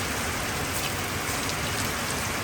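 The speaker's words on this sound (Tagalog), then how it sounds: "So, ayan ang ulan." Heavy rain pours steadily and loudly, a dense continuous hiss of drops striking surfaces close by, with no talking.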